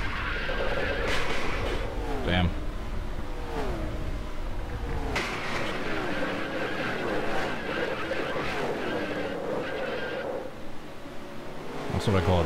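A race car skids and crashes at Atlanta in the NASCAR Racing 2003 video game. Continuous engine roar and wind-like rushing carry sliding tire noise, with sharp impact thumps near the start and again at the end.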